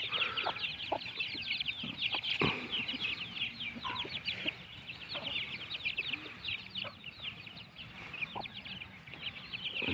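Village chickens cluck and chirp steadily at a farmyard in the morning, fairly faint, with scattered soft knocks and rustling throughout and no talking.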